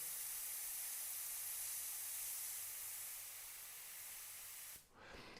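Steady hissing spray from an airbrush, constant and fairly close for several seconds, then a brief dip and change in tone near the end.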